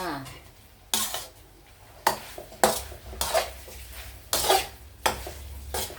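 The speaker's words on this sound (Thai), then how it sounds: "ผัดไปเรื่อยๆอย่าหยุดผัดนะคะอย่าหยุด อย่าหยุดคนนะคะ" Pork rinds frying in oil are stirred in a pan, with sharp scraping clatters of the utensil against the metal at irregular intervals over a soft steady sizzle, close and fairly quiet, no voices.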